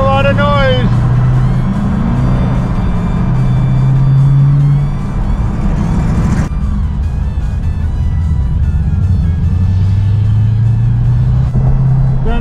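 Rumbling exhaust of a 2020 Dodge Challenger Scat Pack Widebody on a canyon road, loud and close, with engine pitch rising and falling through gear changes over a steady low drone.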